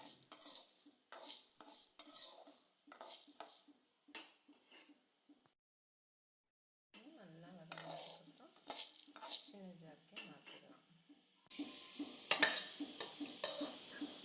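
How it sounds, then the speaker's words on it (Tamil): Spices and black peppercorns are dry-roasted and stirred in a pan for a mutton intestine curry, with repeated metal scraping and rattling strokes, a quiet pause midway, then a louder sizzling burst at the end. "அதையும் நல்லா வறுத்து எடுத்துக்கலாம்."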